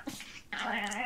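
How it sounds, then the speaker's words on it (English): A small female dog growls in a strange, warbling, whiny way after a brief softer sound, sustained and close, with no talking over it. "How she growls. She's a little weird dog."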